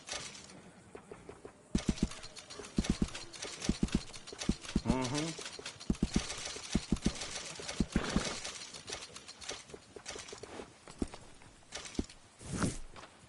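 Steady clip-clop of horse hooves in a walking rhythm in Red Dead Redemption, fairly close, with a voice speaking briefly over them and a whinny-like sound near the end.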